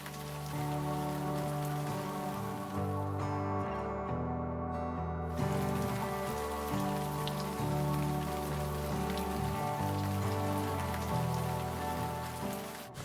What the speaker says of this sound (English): It rained and rained and rained.